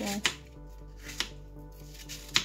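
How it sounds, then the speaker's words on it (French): A knife chops apples into dice on a board three times at an unhurried, even pace, each cut a sharp close knock over quiet hum. "je vais les couper en petits morceaux"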